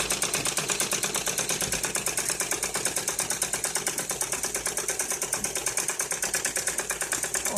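A sewing machine stitches a curved seam on a net-cloth ladies' suit toward the hip slit, its needle thumping in a fast, even, continuous rhythm close by and loud throughout, with no speech.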